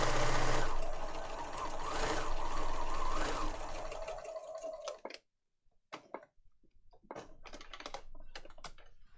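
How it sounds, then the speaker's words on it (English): A sewing machine stitches along the top of a handmade lap book journal with a steady close whir, then stops and gives way to irregular clicks and taps of handling the paper. "So I just need to sew along the top there."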